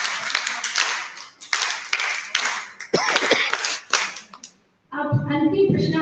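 An audience at a women's conference performs a rhythmic soldier clap, crisp sharp claps in tight repeated bursts with short gaps, then stops before other sound comes in near the end.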